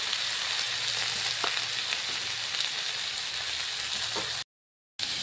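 Vegetables fry in a pan with a dense, loud, rain-like hiss that holds steady throughout, broken by a few faint ticks. The sound cuts out abruptly near the end for a moment of silence and then returns.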